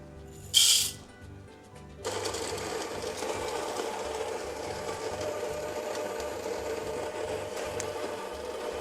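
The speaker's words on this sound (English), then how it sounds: "so it's time to grind it and to rinse out our French press" An electric coffee grinder grinds beans to a medium-coarse setting for French press coffee. A brief click comes first, then the grinding starts and runs as a steady, loud whirring drone to the end.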